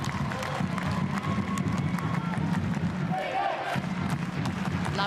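Crowd at an A-League women's football match between Wellington Phoenix and Newcastle Jets, a steady broad roar and cheer filling the stadium throughout, with a commentator talking over it.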